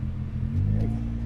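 A 2020 Nissan GT-R with titanium exhaust tips idles with a deep, throaty drone, then swells briefly into a light, rev-limited blip while parked out of drive.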